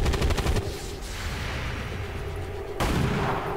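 Gunfire in the video game XCOM 2: a rapid rattle of loud shots opens, then a steady battle din, and another burst of shots hits near the end.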